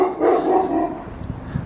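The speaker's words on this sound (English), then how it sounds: "Oh, that's a big dog. That's a very big dog." A big dog barks close by, a few loud barks in a rough burst, then quieter follow-up sounds trailing off, outdoors near the site of an old railway goods yard and engine shed in Wrexham.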